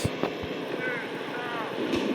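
A helicopter in the video game Dude Theft Wars whirs with a faint rotor drone behind someone talking over it, joined by a few short knocks.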